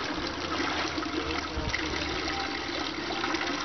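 Spring water flowing out of its source at Lancharon, a steady, soft rushing and trickling that stays even and close throughout, with no other sounds.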